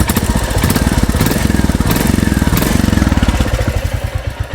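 A Royal Enfield Classic 350 motorcycle's exhaust runs close and loud with a steady, rapid thumping beat throughout, and no voices.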